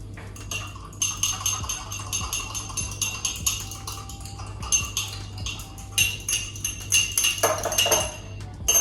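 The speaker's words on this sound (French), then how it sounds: "que je ne suis pas en train de vous casser les oreilles quand je mélange et quand je tape sur le curry" Metal utensil clinks and taps steadily against a bowl while curry powder and olive oil are stirred together for a healthy sweet potato burger, a close, busy run of bright chinks with brief pauses.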